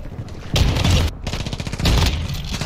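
Shotgun blasts in a first-person shooter game, a few heavy booming shots in quick succession, loud and close, with a brief gap between bursts and no talking.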